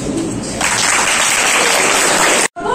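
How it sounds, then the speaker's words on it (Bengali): A crowd of students and guests at a school anti-tobacco event clapping, dense and loud applause close by that builds and then cuts off abruptly near the end. "হাততালি।"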